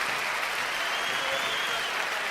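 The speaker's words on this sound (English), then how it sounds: "a round of applause" Steady applause from a small live-stream audience, continuous clapping at even loudness for the whole stretch with no breaks or voices.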